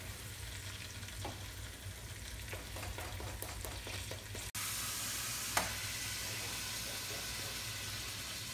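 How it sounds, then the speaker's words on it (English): Ground meat fries with seasoned onions in a pan, a steady sizzle broken by scraping stir strokes, with a sharp clatter midway and more hissing afterward. "he's going to stir and cook the meat for me while I talk to you guys a little bit more about dinner"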